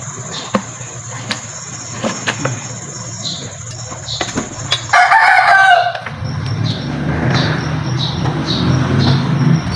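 A chicken gives a loud squawking call outdoors in a garden during planting, set against steady low rumbling and scattered knocks and clatter.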